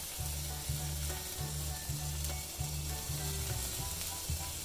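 An egg fries in a pan for a sausage and egg McMuffin: steady close sizzle throughout, with a low, regularly pulsing hum from the stove or pan underneath, no talking.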